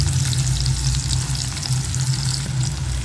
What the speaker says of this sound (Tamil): இப்போ பொடியாக கட் பண்ணி வச்சுருக்க பெரிய வெங்காயத்தை சேர்த்துக்கலாம்.